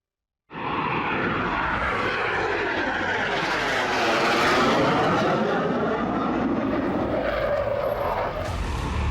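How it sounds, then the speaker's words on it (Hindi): Indian Air Force fighter jets such as the Mirage do touch-and-go passes on the Ganga Expressway in Shahjahanpur, Uttar Pradesh: a loud jet roar swells in suddenly, peaks with a sweeping pitch as the aircraft passes close, and keeps thundering. "मिराज जैसे 15 लड़ाकू विमानों ने टच एंड गो किया।"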